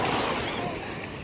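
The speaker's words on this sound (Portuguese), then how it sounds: "Nossa, olha o tamanho das ondas." Broadband rushing wash of ocean waves, steady and fairly loud, with some wind buffeting the microphone.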